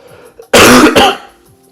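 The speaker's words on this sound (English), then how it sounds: "sorry about my cough" A single harsh cough bursts out loudly, followed by a shorter second hack, then quiet; close and dry, with no talking.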